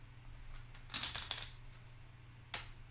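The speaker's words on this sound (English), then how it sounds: "Here I am just shuffling my chips" Poker chips being shuffled, with a few crisp clattering bursts of clicking clay chips close by, separated by quiet pauses, no talk.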